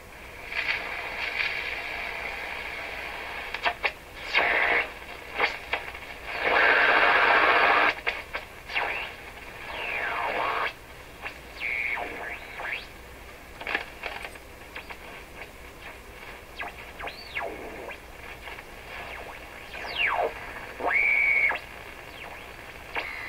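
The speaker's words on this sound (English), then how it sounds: "So I think that's what we hear on the AM band." A Rogers 11RA651 shortwave radio tuning across the AM band: crackling static, bursts of loud noise and sweeping whistling heterodyne tones rising and falling.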